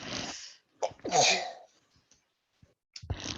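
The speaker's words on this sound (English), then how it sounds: "excuse me, I have to sneeze" A single sharp sneeze close to the listener, with a quick breath before it and soft breathy sounds after.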